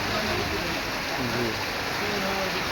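Gentle monsoon rain falls at midday without wind as a steady, even hiss of drops, with a faint voice murmuring underneath.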